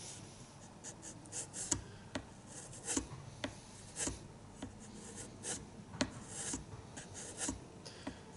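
A sharp wood chisel pared along the grain gives quiet, close scraping and rasping strokes, with repeated brief sharp clicks as the edge bites in, irregular and unhurried, with no talk.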